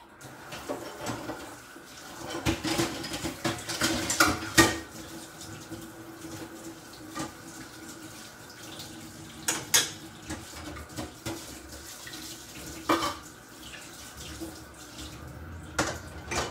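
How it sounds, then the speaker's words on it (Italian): Gurnard fish rinsed under a running kitchen tap: a steady wash of water flows throughout, with occasional clinks of pans and utensils in the sink and no talk. "Mettiamo sotto l'acqua corrente."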